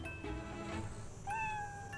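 A cat meows twice, a rising drawn-out call followed by a shorter one, close and clear over a steady background hum.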